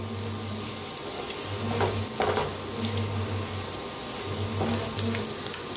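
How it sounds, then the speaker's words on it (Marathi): Eggs fry in hot oil in a pan with a continuous sizzle. Occasional scraping stir strokes break through the hiss, and there is no speech. "मस्त असं फ्राय करून घ्यायचे अंडे"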